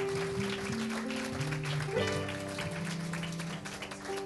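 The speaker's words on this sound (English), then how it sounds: "Give them a hand clap." Church congregation applauding a row of ladies during a Sunday morning service, a moderate clapping wash mixed with sustained organ or keyboard chords underneath.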